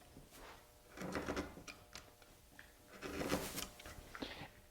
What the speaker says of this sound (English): I'm using a long bent gouge here, and now you just start your working from the center out.